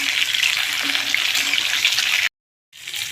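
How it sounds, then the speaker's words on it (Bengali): Pieces of pointed gourd (potol), coated in salt and turmeric, dropped into hot oil in a kadai, setting off a loud, close, continuous sizzle that suddenly cuts out and then resumes at a lower level. "তেল গরম হয়ে গেছে আমি পটল দিয়ে দিলাম"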